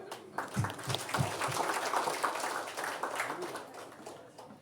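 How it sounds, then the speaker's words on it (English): Audience applause at a stand-up comedy show: a steady, close wash of many hands clapping that holds for several seconds before easing off slightly near the end. "Big round of applause, Prita."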